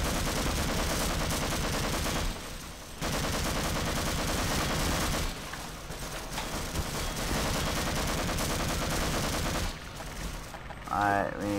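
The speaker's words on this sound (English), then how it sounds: "Get ready, I hear shooting." Sustained gunfire and bursts of shooting in the Half-Life game, dense and loud almost throughout with brief lulls, a sharper burst near the end.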